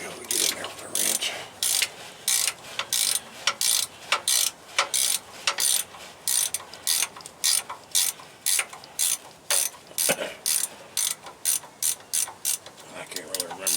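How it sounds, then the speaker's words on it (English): Ratchet wrench clicking in quick repeated bursts while working on a car transmission, each stroke a sharp metallic rattle, close and loud with short gaps between pulls. "I might be able to get in there with a wrench."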